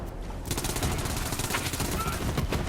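The Kaoson submachine gun fires rapidly in Borderlands 3, a dense stream of quick rhythmic shots that starts after a brief pause and keeps going to the end, loud and close with game effects mixed in.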